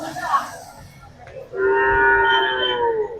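Cattle at a busy Monday cattle market in Melapalayam low in one long, drawn-out moo that rises clearly above the crowd noise and talk of traders.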